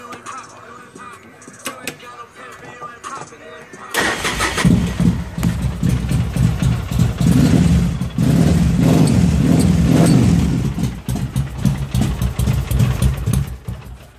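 A 2008 Polaris engine cranks and catches about four seconds in, then settles into a loud, steady idle with some uneven surges. Quieter background noise comes before the start.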